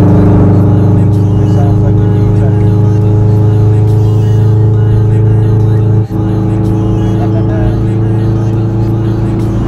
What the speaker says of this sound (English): I think the exhaust would give me a bit of an headache after a while